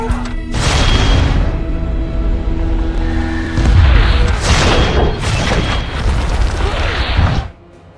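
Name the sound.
artillery cannon fire in a film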